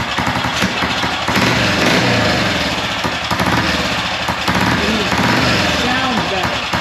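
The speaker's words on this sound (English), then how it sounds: "we put a new spark plug in it, disconnected a few things, and it fired up" A BSA motorcycle engine runs loud and steady just after being fitted with a new spark plug, a continuous close-up rumble with fast, rough firing pulses. Voices talk faintly underneath.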